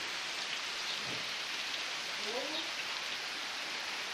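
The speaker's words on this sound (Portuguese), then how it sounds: "começou a chover" Rain starting during a storm with strong wind in São José: a steady, soft, even hiss of falling rain heard from a distance, with a faint voice briefly audible beneath it.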